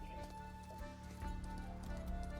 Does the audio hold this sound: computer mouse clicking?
no